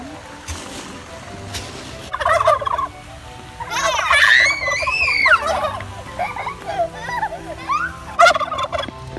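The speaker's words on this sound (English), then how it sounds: "we went to go play with some turkeys." Several turkeys gobble in bursts on a Louisiana outing, their warbling calls rising and falling close by over a low background rumble, with brief pauses between calls.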